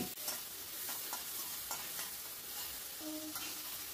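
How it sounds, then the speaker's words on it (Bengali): Tomato with salt and turmeric being stirred in a pan over a high gas flame, giving continuous close scraping and frying sizzle with soft clinks, fairly quiet and with no voices. "দিয়ে সব কিছু ভালো করে মিশিয়ে নিচ্ছি। গ্যাসের ফ্লেমটা হাইতে রেখেছি আর অনবরত কিন্তু নাড়তে হবে।"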